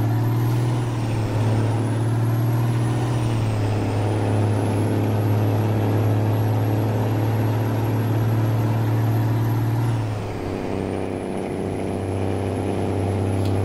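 Kenworth T800 truck hauling a long trailer in American Truck Simulator, its engine a steady deep drone with a brief air-brake hiss near the ten-second mark, loud and continuous with no talking.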